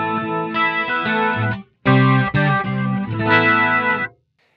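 An electric guitar plays chords and notes through a BOSS MO-2 Multi-Overtone pedal at full effect mix, shimmering and distorted, thick with added overtones, with a short gap before the phrases continue and stop.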